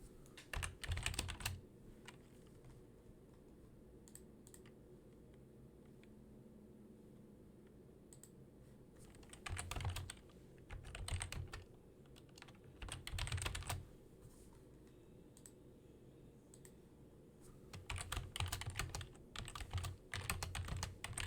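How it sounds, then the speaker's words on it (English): Bursts of close keyboard typing and clicks as a double integral is entered into Wolfram Alpha, separated by quiet pauses over a low room hum. "I typed in all of the function, or all this double integral into Wolfram Alpha"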